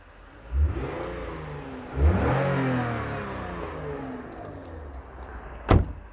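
The 2.5-litre engine of a Toyota Mark X is revved in a few short bursts, each rising then falling away, heard close from inside the car, with a sharp knock near the end.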